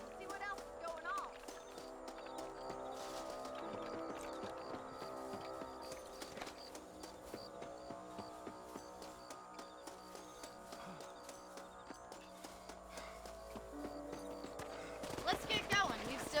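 Rhythmic hoof clip-clop of horses trotting in Red Dead Redemption, steady under layered music and game sounds, with a brief voice near the end.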